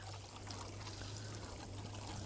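Water pours steadily onto a carrot bed in a garden, a continuous splashing trickle that holds close and even from start to finish, with a low steady hum beneath and no talk.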